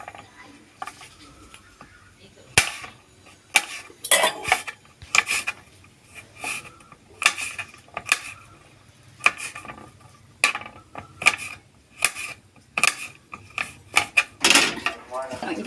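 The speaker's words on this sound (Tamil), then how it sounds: "இப்போ நம்ம கொஞ்சம் பாதாம் வந்து கட் பண்ணி எடுத்துக்கலாம்" A knife chops almonds into small pieces on a board, producing a run of sharp, uneven taps and scrapes close by, some hits louder than others.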